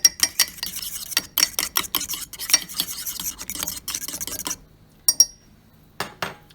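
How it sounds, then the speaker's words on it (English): A utensil scrapes and clinks rapidly against a bowl of partly set microwaved eggs in quick repeated stirring strokes, close up, then stops, followed by a few isolated clinks. "We're going to give them a little stir."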